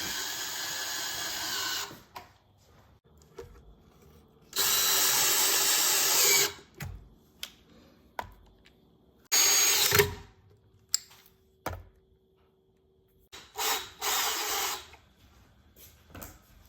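A power drill drives screws through a blue pocket hole jig during a console table build, with several loud sustained whirring runs and shorter bursts separated by quiet gaps and small clicks.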